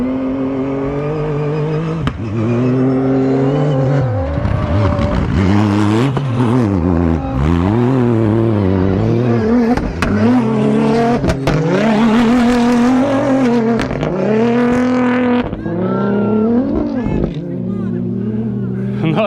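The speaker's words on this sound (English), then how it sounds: "And the first cars are coming too." Dakar Rally 2025 race cars pass by loudly, engines surging and fading in repeated sweeping pitch swells across a sustained roar; no one speaks over it.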